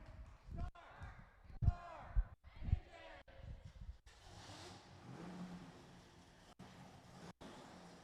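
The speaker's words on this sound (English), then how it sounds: "fire up those vehicles for the very first time" A GTO and a Mustang start up and rev: voices and crowd noise fill the first half, then a steady, rumbling engine drone takes over and holds through the end.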